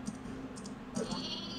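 Short sheep bleats, two or three brief calls against a low steady background hum, fairly close and moderately loud, with faint clicking.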